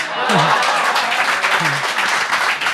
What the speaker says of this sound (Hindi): और जो तालियां बज रही हैं मेरे लिए